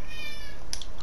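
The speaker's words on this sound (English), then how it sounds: "Oh, there's a cat." A cat meows in a video game, a single short, clear meow standing alone against steady background game sound.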